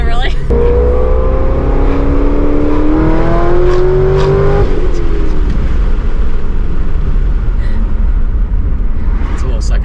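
A 640-horsepower Corvette ZR1 with a clutch pulls away hard, its loud engine note rising in pitch until it shifts into second gear about halfway through and then keeps pulling, with voices speaking over it.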